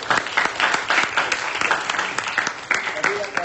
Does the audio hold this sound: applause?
yes